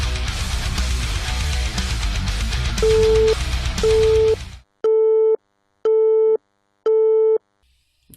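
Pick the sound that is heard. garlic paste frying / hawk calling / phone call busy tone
phone call busy tone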